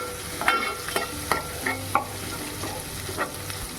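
Garlic fries in hot oil in a pan while being stirred, a soft steady sizzle broken by repeated scraping strokes of a utensil, close and fairly quiet, with no talking.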